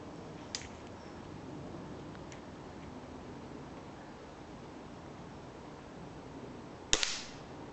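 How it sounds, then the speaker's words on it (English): A gas gun bird scarer fires once with a sharp, loud bang near the end, preceded by a faint click, against a steady background of rain-like noise. "Them gas guns now, all you hear is like psst"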